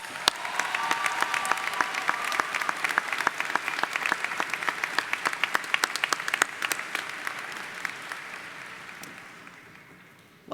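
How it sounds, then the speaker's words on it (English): An audience applauds special guests at a college commencement ceremony, sustained dense clapping that holds for about ten seconds and then slowly thins and fades. "Please join me in applauding these special guests."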